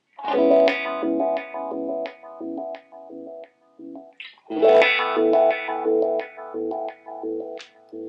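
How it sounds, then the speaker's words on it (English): Synthy bleep-bloop tones from a Line 6 M13 effects pedal's seeker filter step rapidly up and down through a resonant filter, bubbling in quick rhythmic pulses with a short pause midway. "Here's the seeker sound. Here's that bleep bloop thing."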